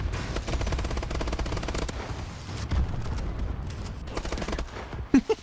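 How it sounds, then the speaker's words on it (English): Rapid bursts of paintball gun fire in Call of Duty: Advanced Warfare on PS3, a dense, loud stream of shots running nearly the whole time, closing on a couple of sharper isolated pops. "it just means you're now shooting paintballs"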